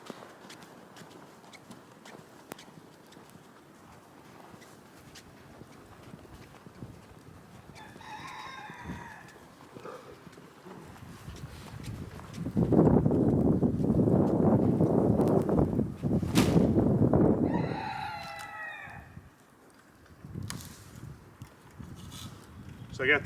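Chickens in a coop during a winter snowstorm, with a rooster crowing twice, loud and nearby, over soft clucking and footsteps crunching through snow, plus a long stretch of louder rustling noise.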